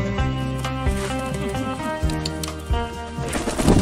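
Young pigeons coo repeatedly in soft, rhythmic low calls close by, with several birds overlapping and no talking.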